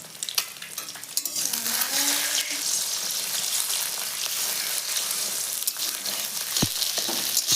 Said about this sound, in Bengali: ডিমটা ভাজা হয়ে গেছে, এখন তুলে নেব।